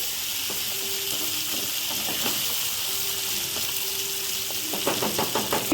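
Masala-stuffed gunda sauté in a pan for a gunda sabji, giving a steady hissing sizzle throughout with faint stirring taps that grow busier toward the end.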